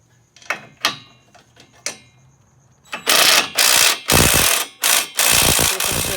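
A ratchet fitted with a 19 mm socket on a 2018 Polaris RZR Turbo rear trailing arm clicks a few times sparsely, then spins in loud, close bursts of rapid clicking.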